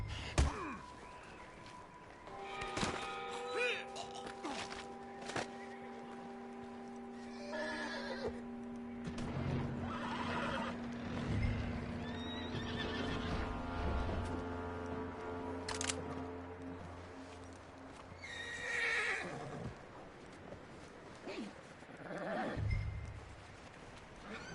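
A horse in the Western video game Red Dead Redemption 2 neighs and whinnies repeatedly at close range over about twenty-five seconds, with occasional hoof clops and snorts in between.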